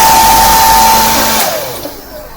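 A hair dryer blows loudly with a steady whine, then switches off and winds down, its pitch sliding lower as the airflow fades.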